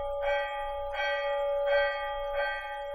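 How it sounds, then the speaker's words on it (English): In the video game Ben Jordan IV, a bright electronic bell pulled by a rope rings four times at an even, steady pace, each strike ringing briefly before the next, with no voices. "It's a very noisy bell."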